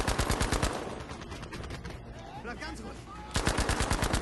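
Rapid submachine-gun bursts from Battlefield 5 gameplay on PS4, loud and close, firing at the start, pausing while a German voice speaks briefly, then resuming in a fast rattling burst at the end.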